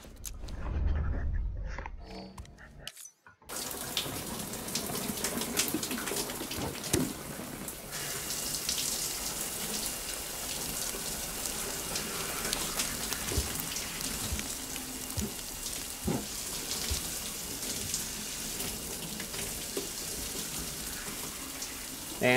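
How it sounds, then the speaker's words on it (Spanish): A shower runs in the video game Death Stranding, a steady hiss of falling water that begins abruptly after a brief silent gap and continues evenly throughout. "Vamos a darnos una ducha"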